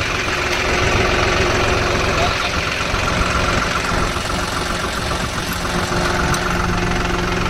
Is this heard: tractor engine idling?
yes